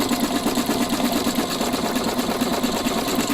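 A sewing machine stitches yarn down with a 3-hole yarn foot, its rapid even needle rhythm running steadily and close up with no pauses or talk.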